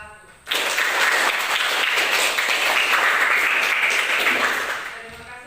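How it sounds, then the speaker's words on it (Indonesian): Schoolchildren in a classroom applauding group 1, a burst of dense clapping that starts abruptly, holds for about four seconds and tapers off. "Siap dengan aplaus untuk kelompok 1"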